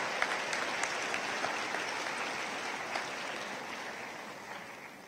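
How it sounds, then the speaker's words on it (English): Large commencement crowd at a community college graduation applauding honor students, a continuous, even roar of clapping from many hands in a big hall, slowly tapering over five seconds with no voices. "I think they deserve another round of applause"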